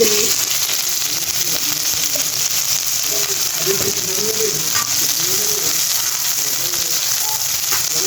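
Sliced onions fry in hot oil for an omelette, giving a steady close sizzle with faint stirring movements and bird cooing in the background.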